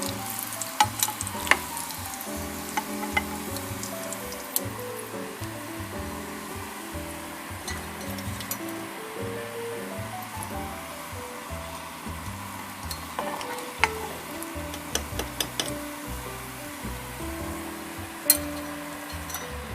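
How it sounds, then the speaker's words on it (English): Beignets frying in hot oil, a continuous close sizzle with small bubbling pops and occasional light clinks, steady and unbroken throughout with no talk. "now I will continue to fry each of them"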